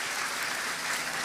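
A church congregation claps together during a sermon, a brief, fairly faint burst of dense, even applause with no break.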